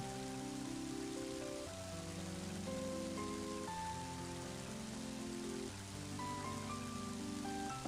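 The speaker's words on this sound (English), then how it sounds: "And now it's starting to rain." Steady rain patters continuously in the video game Mother 3, a soft even hiss beneath sustained, slowly shifting music tones, with no talking.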